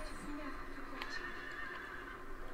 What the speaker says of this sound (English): My horse is scared.